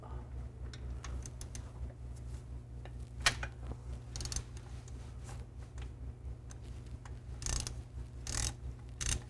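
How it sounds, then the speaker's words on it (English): A ratchet with a 13mm socket clicks in quick bursts while bolts come out during a drive belt kit replacement on a 2011–2014 Chrysler 200, close and moderately quiet amid faint shop noise. "Now I'm going to use a 13mm socket, take those bolts out."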